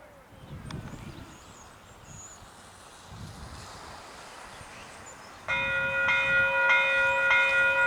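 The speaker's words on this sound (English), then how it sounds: "Let the commuter train through first." At a Japanese level crossing, a commuter train passes with a low rolling rumble while the crossing bell starts ringing loudly and rhythmically partway through. Voices are heard faintly.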